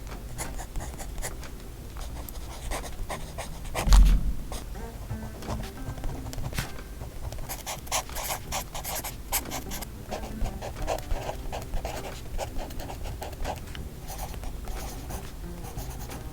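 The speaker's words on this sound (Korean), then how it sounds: "이번에는 미도리 노트 한번 같이 써볼게요." Handwriting on the paper of a Midori notebook: steady, close scratching and rubbing of pen strokes that runs the whole time, with soft uneven rhythm and no speech.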